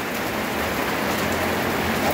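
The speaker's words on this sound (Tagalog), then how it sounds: "This time malakas ang ulan dito." Heavy rain pours steadily in a mountain setting, a dense, unbroken hiss of falling water that stays loud and even throughout, with no voices over it.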